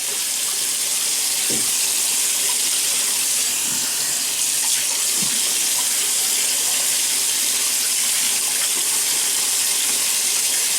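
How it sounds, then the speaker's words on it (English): Water runs from a tap into a sink while the face is wetted before a shave, a steady close rushing stream with a few brief splashes. "let me wet the face first, just to get it prepped"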